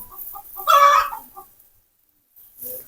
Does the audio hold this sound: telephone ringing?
no